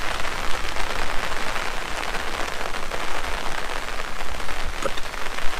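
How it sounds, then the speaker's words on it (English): Steady heavy rainfall at a riverside park-up in central Brecon, a loud continuous wash of drops hitting surfaces without pause. "It's raining hard."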